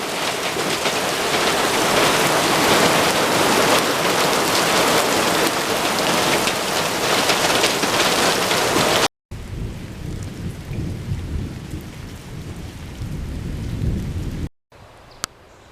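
Heavy rain from a thunderstorm pounds steadily on a surface, with thunder rumbling through the downpour; the sound drops out briefly, then softer rain continues.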